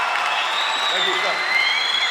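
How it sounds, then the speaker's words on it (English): An audience at a Sydney fan event for a fighter and his team gives a dense round of applause, close and loud, with someone speaking over the clapping. "round of applause"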